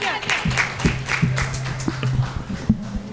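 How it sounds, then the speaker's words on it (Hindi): Applause from a crowd rattles steadily for a few seconds, with a low hum and scattered voices underneath. "जोरदार तालियां"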